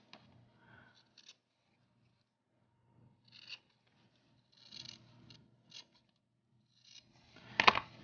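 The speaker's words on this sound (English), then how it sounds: "take your scissors and trim the corners" Quiet, intermittent snips and rustles of scissors trimming fabric corners, a few short separate cuts with pauses between, close by and ending in a louder snip.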